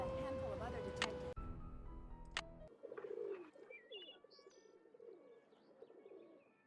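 Pigeons cooing at a railroad station in a Nancy Drew video game, soft repeated coos and chirps after a burst of louder game music and a sharp chime, with station ambience underneath.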